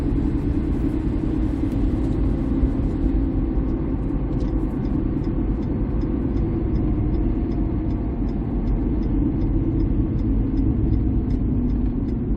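A 2008 Mercury Mariner rolls along a road with a steady, continuous low engine and road rumble that holds even and unbroken throughout, the running smooth and close without any talk over it.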